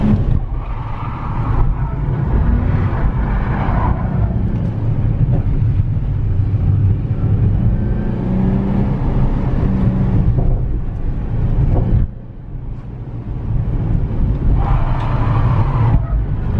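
Nissan 350Z drifting on a track, engine droning loud and steady with throttle surges and a brief dip near the end, close and continuous under faint background chatter.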